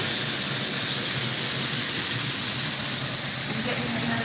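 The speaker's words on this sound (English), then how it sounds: "Y'all see how fast the beef goes when you're frying." Beef for country fried steak sizzling in a frying pan, a steady loud broadband hiss that fills the whole stretch without pause, close and continuous.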